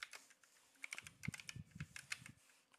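Typing on a computer keyboard during a livestream, soft close keystrokes in quick uneven bursts, faint and alone.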